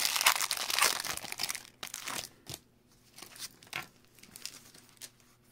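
Close, loud crinkling and tearing of foil Pokémon card duo pack wrappers, dense at first, then quieter intermittent rustles and crumples.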